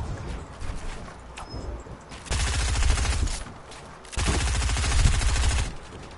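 Rapid automatic gunfire in a video game, shooting down the player in two loud sustained bursts separated by a short lull, over quieter background game sounds.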